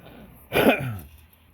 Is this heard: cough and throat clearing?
yes